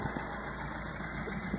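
A MerCruiser inboard boat engine idling while the idle is set, giving a continuous, even mid-low hum with a steady tonal whine above it and no talk.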